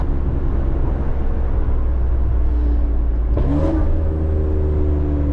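Steady, loud cabin drone of a catless, tuned BMW X3M engine heard from inside the car, with a brief rising rev swell around the middle before settling back to a constant hum.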